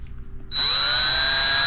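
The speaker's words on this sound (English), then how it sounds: "Let's go ahead and drill this out right quick." A power drill spins up abruptly after near silence and keeps whining at a steady high pitch, loud and close.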